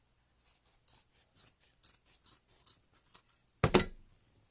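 Scissors snip repeatedly along the edge of a folded wreath board, about a dozen short, crisp cuts in a steady rhythm, followed by a louder rasping clatter as the material shifts near the end.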